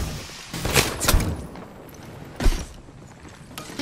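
Gunfire in Apex Legends comes as sharp bursts of shots near the start, a second cluster just after one second, and another report around two and a half seconds, set against quieter game ambience.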